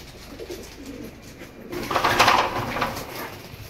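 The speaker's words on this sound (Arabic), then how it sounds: "اللي انتم شايفينه فوق ده هجين اللحم الفرنسي مع الحمام البلدي" Hybrid pigeons, French meat pigeons crossed with local birds, coo in a loft, soft at first and then a louder, fuller burst of cooing close by.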